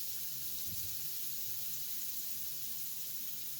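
Salmon sautéing in a pan, a steady, quiet sizzling hiss running unbroken throughout with faint low clatter underneath.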